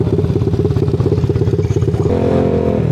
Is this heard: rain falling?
no